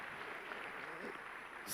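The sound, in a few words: audience applause at Elon Musk talk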